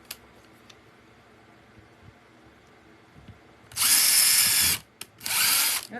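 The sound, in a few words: power drill drilling a hole in a resin keychain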